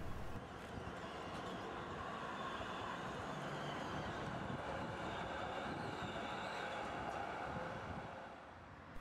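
LHB-built EGT6 tram with its EB4 trailer car on Braunschweig's line M5 toward the main station, a steady, loud rumbling ride with continuous wheel and running noise throughout, no voices.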